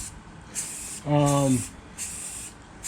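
Rattle can of primer sprayed onto a car roof, a series of close hissing bursts, several short ones around a longer central spray, with a brief tonal hum under the middle burst.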